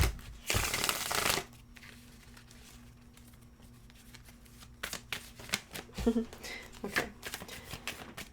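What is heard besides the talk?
shuffling tarot cards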